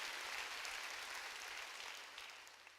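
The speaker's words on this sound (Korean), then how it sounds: "깨달은 사람만 박수 치라고. 세게 치라고 박수." A church congregation claps during a sermon, a soft, distant wash of many hands that stays even before thinning out near the end. No voices are heard over it.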